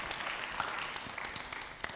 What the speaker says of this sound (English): Quick round of applause for everyone.